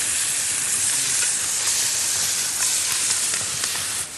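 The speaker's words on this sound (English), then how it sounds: "Next, trout, cooked on a shovel. Look at that, instant sear." Trout sears on a hot shovel over an outdoor fire, giving a loud, continuous hissing sizzle that holds steady throughout, with faint occasional crackles and no talking.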